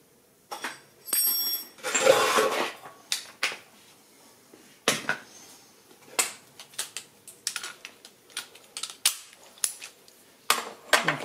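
On a 2020 Suzuki GSX-S750 motorcycle, the rear wheel nut is tightened with a tool, producing sharp, irregular clicks and ratcheting snaps up close with a brief burst of rustling.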